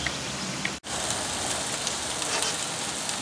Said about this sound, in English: You can hear the sizzling going on here, but notice it's not real high flames coming up or anything like that.